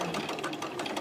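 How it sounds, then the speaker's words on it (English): A domestic sewing machine stitches a zipped cushion cover in a fast, even mechanical rattle, close and moderately loud, with no talk. "and then keep sewing."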